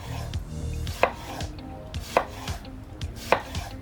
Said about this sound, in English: I would get my knife and I would just slice it like this